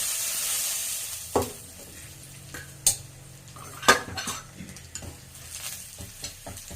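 A spoon stirs ground pepper and cumin powder into rasam in a pan alongside dried red chillies and garlic, with a soft sizzle underneath and a few sharp metal clinks against the pan at irregular intervals.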